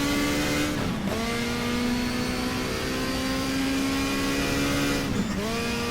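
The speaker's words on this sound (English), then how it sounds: "Sounds almost like a 2 liters prototype" A 1987 WTCC touring car in the GTR2 racing game at Brno: a steady, loud engine drone at high revs, with two quick downshift blips a few seconds apart and no talk.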